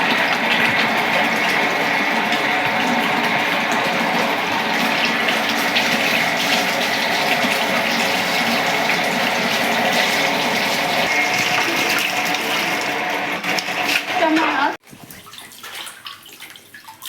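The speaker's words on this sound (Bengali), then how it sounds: "আর বাড়িতে আম্মু জামগুলো ধুয়ে এখন মাখাবে" Tap water gushing steadily and loudly while jamun (Java plum) fruit is washed at home, a continuous close rush of running water that cuts off abruptly near the end, leaving quieter splashing and movement.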